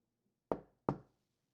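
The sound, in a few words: knock at a door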